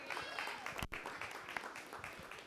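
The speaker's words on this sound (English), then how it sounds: "Let's give him one more round of applause" An audience applauds at a participatory budgeting voting day and results party, with a steady, moderately distant spread of clapping throughout.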